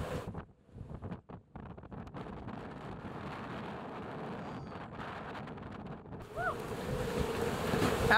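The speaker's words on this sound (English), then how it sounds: "How fast the wind's blowing?" Strong wind of about 35 to 40 knots blows over the sea off Bribie Island, a steady roaring rush with buffeting and waves on a boat, moderately loud and continuous.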